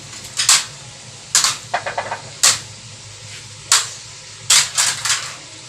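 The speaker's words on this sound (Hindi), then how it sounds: "हम शलजम को काट रहे हैं" Turnips being chopped on a board, a series of sharp, close knife strikes in uneven bursts, some single and some quick double or triple hits, with a low steady hum underneath.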